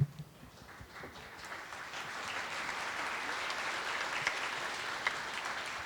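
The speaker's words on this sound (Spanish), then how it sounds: "Yo creo que Dálida se merece ese aplauso" A crowd applauding steadily, a dense even patter of many hands clapping that holds throughout at a moderate level.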